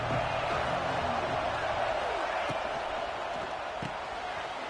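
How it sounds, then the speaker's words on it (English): Stadium crowd noise from the College Football 26 video game, a steady loud roar of fans filling the whole clip with a few sharper thuds and whoops rising through it, and no voices standing out. "This crowd bringing the energy and noise early."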